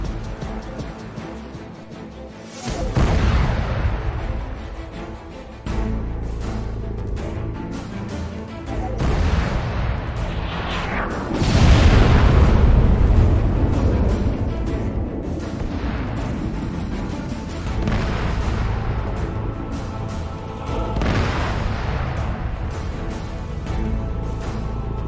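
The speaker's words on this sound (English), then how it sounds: "With the JDAMs they carried, the Strike Eagles leveled these artillery positions." Heavy booms from JDAM bombs dropped by F-15E Strike Eagles striking artillery positions in Syria, arriving as a series of loud, rumbling blasts that swell and fade over a continuous low roar, with no voices.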